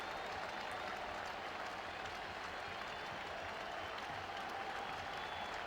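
Mets fans standing and clapping in the stadium during a 2000 World Series game, a continuous, distant roar of crowd applause spread evenly across the moment, soft and unbroken.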